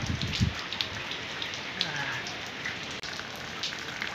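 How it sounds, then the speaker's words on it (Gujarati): Steady rain patters on a surface in a continuous hiss of drops. A brief low thump sounds near the start. "આમાં પાણી ભરાયા ને આવા વરસાદ વરસ્યા છે મિત્રો"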